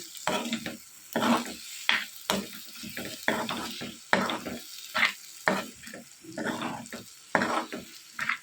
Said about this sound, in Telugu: ఇదంతా కూడా బాగా కలుపుకొని కొంచెం సేపు ఫ్రై చేసుకోవాలి